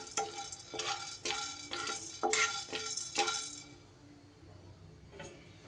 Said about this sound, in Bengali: বেশ 30 থেকে 40 সেকেন্ডের মতো এইভাবে শুকনো খোলায় নেড়ে নিয়ে সুন্দর গন্ধ বেরিয়ে গেছে।